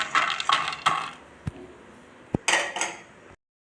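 Roasted almonds are moved from a pan onto a plate, producing a few bursts of rattling, clinking scrapes with sharp single knocks in between, close and fairly loud, ending in silence.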